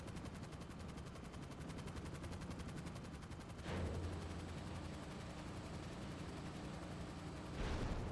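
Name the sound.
rocket fired in GTA 5 Online, a video game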